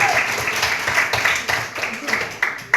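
Classroom applause for a student, a brisk patter of many hands clapping steadily for a few seconds with some voices mixed in.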